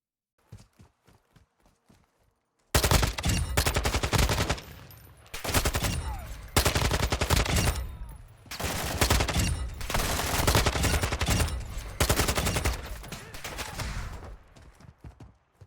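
Assault rifle gunfire in Modern Warfare 2 DMZ, a few quiet isolated shots and then long, loud automatic bursts, close and sustained with brief gaps between volleys.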